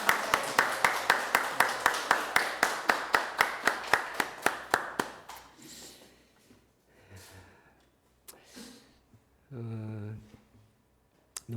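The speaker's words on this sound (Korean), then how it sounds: "우리 박수로 한번 환영하도록 하겠습니다." A congregation claps in welcome for a guest inside a church, a dense, steady run of applause that rises and then thins into scattered claps, breaths and a short bit of murmuring.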